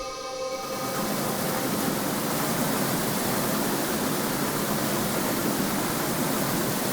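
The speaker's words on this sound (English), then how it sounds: "There's a waterfall." A waterfall in the video game Chronicle of Innsmouth roars as a loud, continuous broadband rush that stays steady throughout, after a brief bit of game music at the very start.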